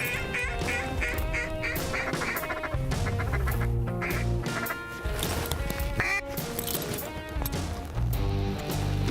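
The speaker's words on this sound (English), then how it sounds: "Oh, we got ducks coming out front." Mallard ducks quack from a flock flying in over a bare field during a hunt, heard amid a busy, dense mix of other sounds throughout.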